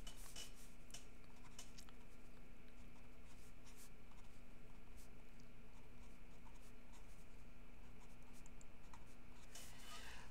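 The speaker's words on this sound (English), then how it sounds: "So let's go ahead and write out the formula that we're using." A pen scratches and scrapes across paper while a math formula is written out, faint, close and continuous, with small taps and no talking.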